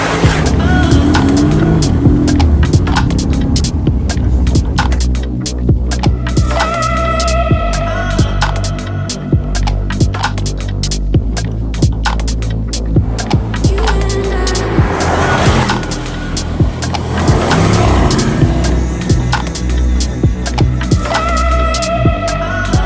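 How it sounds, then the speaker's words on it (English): A supercharged 500bhp 2022 Land Rover Defender V8 drives along, its engine note rumbling loud and steady throughout with swelling revs and passing road noise, no talk. "it is very cool, looks very nice, sounds very nice,"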